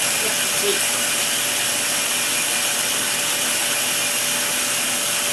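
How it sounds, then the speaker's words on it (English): An electric blender or chopper pureeing pistachio pesto, a loud steady whirring drone that runs unbroken from start to finish. "As you see, you just puree and puree and puree, and then you will end up with a lovely sauce"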